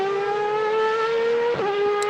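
A Superleague Formula race car screams along the Nürburgring circuit in a sustained high engine whine, loud and close. A brief dip in pitch near the end suggests a gear change.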